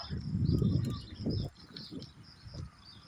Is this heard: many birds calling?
yes